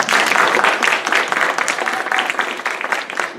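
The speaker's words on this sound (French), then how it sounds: "Un applaudissement pour nos astronautes." Crowd applause for astronauts at a live stage show, dense continuous clapping that stays loud throughout and slowly thins toward the end.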